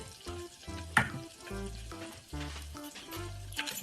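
Mustard seeds crackle and pop in hot ghee during tempering for kus kus upma, a close, lively sizzle of scattered spits and bursts with a soft hiss underneath.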